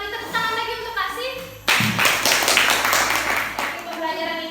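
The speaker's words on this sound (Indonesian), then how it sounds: "Kita beri tepuk tangan lagi untuk Kasih." Children in a classroom break into a burst of clapping for a classmate, a loud, busy patter of hands lasting about two seconds, framed by a teacher speaking before and after.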